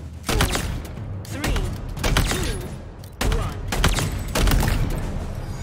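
Gunfire rattles across a video game shooting range in four short, loud bursts of rapid shots, each ringing out briefly before the next, close and dominant.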